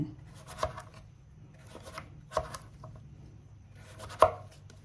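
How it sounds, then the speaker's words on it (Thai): A knife cuts firm pumpkin into thin slices on a cutting board, a few quiet, unhurried cuts with soft thuds and pauses between them. "แล้วก็นำมาหั่น เป็นแผ่นบางๆก่อน"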